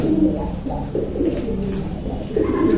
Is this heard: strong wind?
no